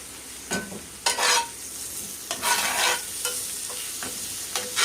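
A seasoned filling for stuffed chicken wings is stirred and fried in a pan, with a steady close sizzle broken by several louder scraping stirs.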